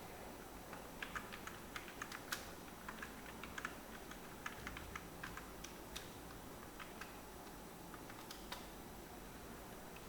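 Quiet, steady clicking of a computer keyboard being typed on, short irregular keystrokes close by with no talking.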